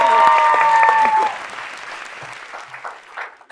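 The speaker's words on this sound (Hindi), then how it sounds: "तालियां होनी चाहिए यार" Studio audience applause on a talk show, clapping under a short musical sting at first, then thinning and fading to scattered claps.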